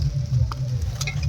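Mutton with potatoes stir-fries in a pan with a close, steady sizzle and a couple of brief scraping stirs, alone without voices.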